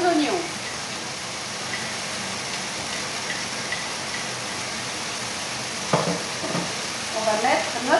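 Chicken pieces and onions fry for coq au vin, a steady close sizzle filling the pan, with bursts of spoon-stirring and scraping near the end.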